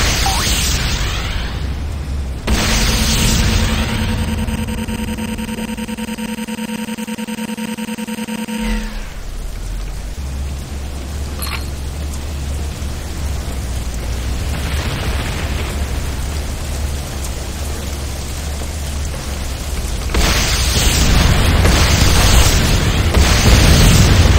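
Explosions and blasts in the Command & Conquer Renegade video game as a Nod airstrip comes under attack, loud and sustained, with a steady harmonic hum midway and a heavier burst of noise near the end.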